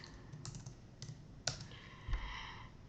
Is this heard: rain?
no